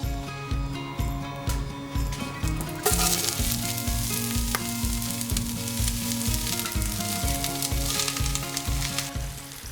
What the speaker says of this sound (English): all of this is going to go into the pan and saute until golden brown